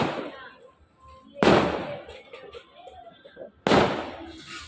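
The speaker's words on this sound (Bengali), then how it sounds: "এই যে সব জায়গায় বোম ফাটছে" New Year firecrackers burst all around, with two loud sharp bangs a couple of seconds apart, each trailing off into crackling echoes, and quieter distant pops and voices in between.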